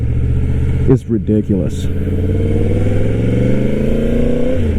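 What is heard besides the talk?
1000cc motorcycle engine revving, accelerating in first gear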